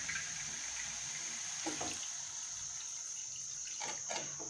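Water poured into tomato kurma simmering in a pan after the chilli and turmeric powders are mixed in: a steady, moderately loud hiss and splash that holds for several seconds with a few brief spurts, and no one speaking.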